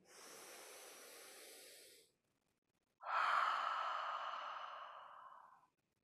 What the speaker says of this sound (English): And then one more breath there.